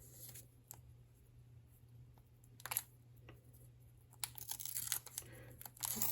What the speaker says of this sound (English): I'm going to just start like ripping these from the side here.